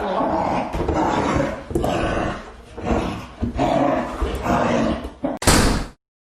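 A female dog barks loudly and repeatedly in bursts inside a home, mixed with talking, and ends with a sharp slam-like thud.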